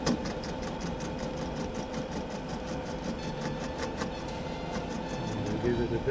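Lathe fitted with a tool post grinder, running with a steady mechanical drone and a high whine, a rapid regular pulsing underneath, close and continuous throughout.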